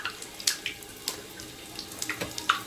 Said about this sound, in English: You need a small pan of water. You dip your hand inside.